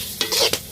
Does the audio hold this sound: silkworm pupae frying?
yes